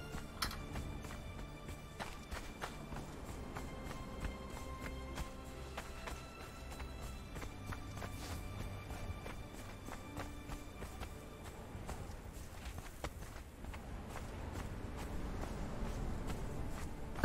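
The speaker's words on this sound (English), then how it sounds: "I heard an extra set of footsteps." Footsteps crunch along steadily in the Conan Exiles survival game, a continuous walking rhythm of soft taps over a dense ambient bed, moderately loud and close throughout, with no one talking.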